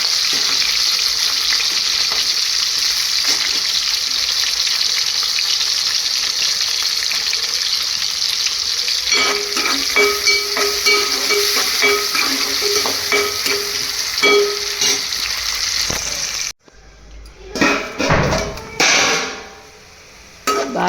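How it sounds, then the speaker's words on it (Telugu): Onions frying in hot oil in a home kitchen pan, a steady dense sizzle running alone throughout, with stirring clatter and scraping toward the end and a brief pause near the close. "వేడెక్కిన ఆయిల్లోకి ఉల్లిపాయలు బాగా వేగనిచ్చుకోవాలి."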